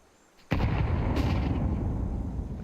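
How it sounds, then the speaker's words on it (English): A grenade detonates during a professional Counter-Strike esports match, a sudden loud blast after a moment of near-silence, followed by a sustained, booming rumble and debris-like noise that slowly fades. "It gets pelted by the nade."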